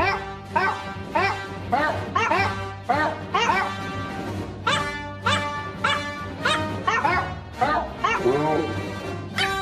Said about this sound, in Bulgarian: гледам ремиксирани клипове на кучета